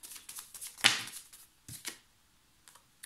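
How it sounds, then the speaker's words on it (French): Tarot cards riffle and flutter in short bursts, then a card snaps down as one is drawn, close and fairly quiet, with brief pauses between the shuffles. "On va tirer une carte hein,"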